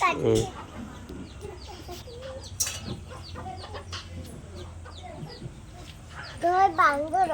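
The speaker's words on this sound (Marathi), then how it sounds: "त्या कोंबड्या माझ्या गावच्या" Chickens cluck intermittently in the background while voices talk over them, with a louder burst of clucking near the end.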